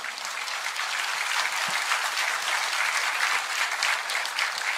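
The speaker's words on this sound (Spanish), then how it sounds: "dale un fuerte aplauso al Todopoderoso" A church congregation claps steadily for nearly five seconds, a dense and even wash of many hands at moderate volume with no voices over it.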